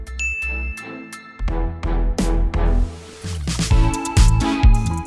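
A series of bright bell dings and chimes ring out one after another, loud and close, with layered tinkling tones.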